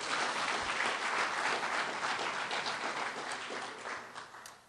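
An audience applauds at a talk honoring Wilma Mankiller. The dense, sustained clapping from a large crowd holds steady, then gradually thins and fades toward the end.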